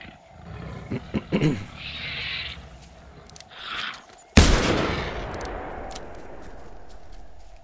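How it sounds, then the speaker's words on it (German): A rifle shot cracks loudly in the hunting game The Hunter: Primal, a single sharp blast that rolls into a long echoing tail, preceded by quieter rustles and animal growls. "Nee, ich schieße wieder gegen den Baum."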